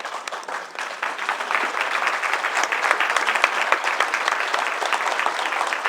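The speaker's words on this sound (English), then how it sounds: "If everyone could please stand and give her a round of applause" A standing audience applauds an honored mother with a dense, steady wash of many clapping hands. The applause builds slightly after the first second and holds at a full, even level throughout.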